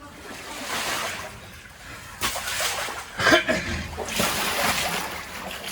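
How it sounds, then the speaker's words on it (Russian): A man falls into water inside a pipe, giving loud close splashes and sloshing that echo in the enclosed space, with voices heard faintly alongside. "Ты что, в воду упал?"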